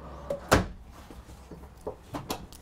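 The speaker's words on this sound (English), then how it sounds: "And then one nice big drawer here." A big drawer in a 2020 Winnebago Intent 28Y motorhome opens and shuts, a sharp sliding thump followed by a few softer knocks and clicks, close and fairly quiet.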